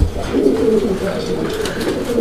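Pigeons coo in a low, continuous murmur inside a loft, a breeding pair calling close by with soft overlapping throaty notes throughout.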